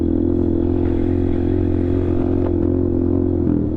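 A Yamaha R15 V3 and RS 200 style NS motorcycle racing on the road, its exhaust droning loud and steady with a constant close engine roar and faint clatter throughout.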